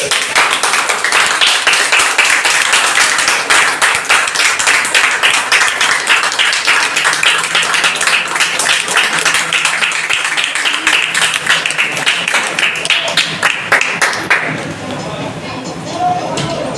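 An audience at an investment company event claps loudly to welcome a leader on stage, a dense, sustained burst of applause lasting around fourteen seconds before fading to quieter room sound.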